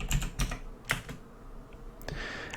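Typing on a computer keyboard while entering a Linux command: a few sharp key clicks, close and fairly quiet, spaced unevenly with short pauses between them.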